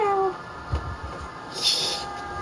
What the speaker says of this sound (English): You got a kitty?